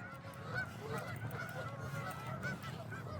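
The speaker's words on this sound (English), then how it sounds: "there's like at least 200 like geese or something" Large flock of about two hundred geese honking continuously outdoors beside a trail, dense overlapping calls at steady loudness with a busy low rumble underneath.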